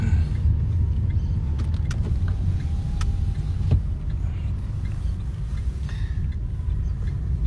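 A car's engine rumbles low and steady up close as it eases backward in reverse, with faint creaks and small clicks over the drone.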